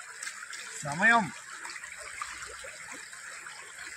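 A clear, cold forest stream flows in Maredumilli, a soft, steady rushing that stays in the background while a person briefly speaks.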